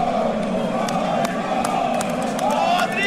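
Deputies in a Brazilian Chamber of Deputies session shout and applaud together, making a loud, dense, sustained roar of voices with scattered claps and whoops.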